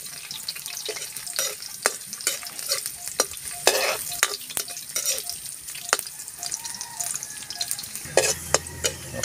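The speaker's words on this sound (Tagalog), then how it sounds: "magigisa na po tayo. Sabay natin itong luya." Ginger sizzling and being stirred in a hot pan at the start of ginataang bulalo, with close crackling and frequent scrapes of a utensil, no talking.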